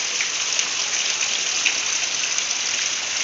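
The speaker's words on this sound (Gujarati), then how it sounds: "હજી વરસાદ ચાલુ છે." Heavy, steady rain pours down on a farm field of groundnut crops, a dense unbroken hiss of drops with occasional brighter splashes, loud and continuous with no voices.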